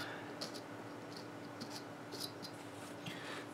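A carving knife slices small chips from a piece of wood during chip carving, producing a few faint, scattered scraping cuts over a low steady hum.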